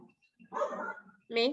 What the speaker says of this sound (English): I apologize for my dog screaming in the background.